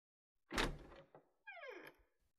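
A door opens with a heavy thunk followed by a short creaking slide, close and fairly faint in a quiet room.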